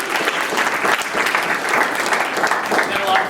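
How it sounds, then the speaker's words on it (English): A crowd applauds steadily, dense clapping filling the whole stretch at a fairly close, even loudness. "Give you guys a round of applause for that."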